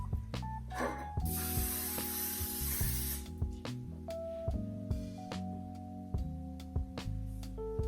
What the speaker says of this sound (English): I'm first going to spray it with some cooking spray just to make sure that they don't stick.